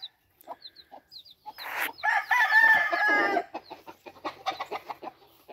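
Game chickens cluck and crow nearby, a rooster-like crowing call in the middle surrounded by short clucks and squawks, with no talking.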